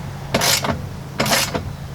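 A bolt being tightened on a storage panel in a 4th gen Toyota 4Runner, heard as two short scraping, ratcheting turns about a second apart, close and moderately loud with no talking.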